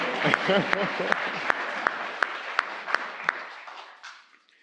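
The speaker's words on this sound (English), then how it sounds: "We can clap for that." Congregation applause in a Unitarian Universalist church sanctuary, a short round of clapping with a few sharp individual claps standing out, fading away after a few seconds, with a brief voice at the start.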